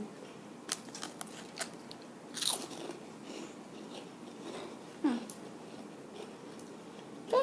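Crunchy Brazilian snack being bitten and chewed close to the mic: several sharp crackling bites spread across the clip, with a louder crunch near the middle and at the end, otherwise quiet.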